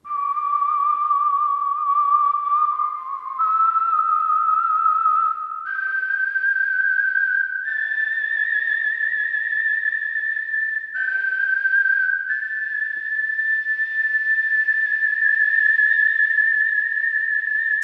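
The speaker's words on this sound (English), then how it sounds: "I was desperate to find a good whistling instrument" A sampled whistling instrument from the Vienna Symphonic Library Synchron-ized Voices bundle plays a clean, pure-toned melody of sustained notes stepping upward, loud and close with no talk.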